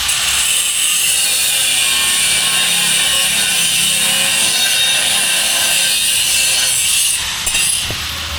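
Power tool cutting a metal blade part on a Mahindra Yuvo Tech Plus 585 4WD tractor, giving a loud, steady grinding rasp that runs unbroken from start to finish, close by, with no talk.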